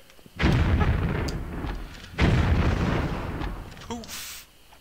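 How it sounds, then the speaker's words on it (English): Two heavy grenade launcher blasts from the Tomb Raider video game, each a loud booming burst followed by a rumbling decay, the second arriving about two seconds after the first. "Use a grenade launcher."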